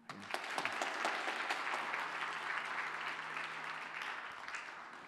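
Applause from a church congregation at a baptism service, a steady broad patter of many hands clapping throughout, moderately loud and without speech.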